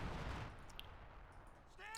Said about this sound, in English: that's the this Major's artillery going back to base, but after calling it in.